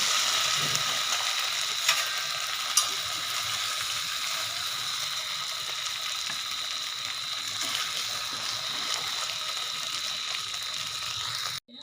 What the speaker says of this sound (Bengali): কচুগুলো একটু ভেজে নিয়েছি, এবার আমি নামিয়ে নেব।